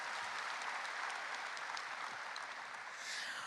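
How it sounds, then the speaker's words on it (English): Warm, steady applause from an audience greeting the First Lady of Rwanda at an International Youth Day event in Kigali, dense and continuous throughout with no voices over it. "So another warm round of applause as we acknowledge her presence here today."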